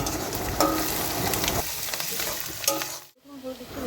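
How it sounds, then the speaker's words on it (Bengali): Chopped ginger sizzles and fries in a hot pan, a steady loud crackle with occasional stirring scrapes, briefly dipping quiet near the end before the sizzle resumes. "আজ আদা কুচিয়ে দিয়ে দিল অল্প অল্প করে এবার এটাও ভালো করে একটু ভাজা ভাজা করে নেবে"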